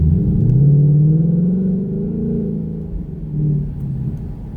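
A 2018-2019 Ford Mustang GT with the 10-speed 10R80 transmission pulls briefly in traffic, its deep engine rumble rising and then settling, heard steadily and close without talking.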